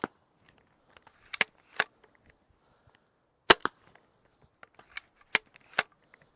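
A PD5 crossbow shot over iron sights, several sharp close snapping releases with a few clicks and small handling knocks between them, spaced irregularly in a quiet setting.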